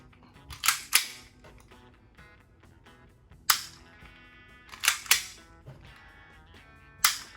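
A WE Hi-Capa 5.1 T-REX gas airsoft pistol with a silver slide fires a handful of sharp, snappy shots spaced irregularly, two close together, then single and paired reports, crisp and near against a quiet background.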